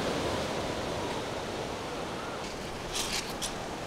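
Sea waves of the English Channel wash steadily along the shore at Dover beneath the White Cliffs, a continuous loud roar of surf with a few brief brighter splashes near the end.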